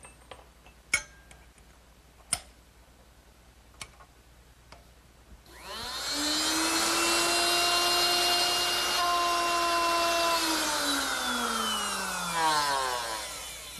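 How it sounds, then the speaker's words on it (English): A router fitted with a dovetail bit cuts a dovetail into wood, a steady loud whine with a falling pitch that runs about eight seconds after a few sharp clicks and taps. "replace this straight cutter with the dovetail bit, and that should make it a lot easier to cut"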